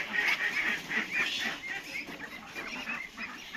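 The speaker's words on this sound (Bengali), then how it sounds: "এখানে হচ্ছে চীনা হাঁস। এই দেখুন, এখানে আছে চীনা হাঁসগুলো।" Chinese geese on a duck farm honking repeatedly, a flurry of overlapping nasal calls from several birds at moderate distance, steady and fairly loud with no talking.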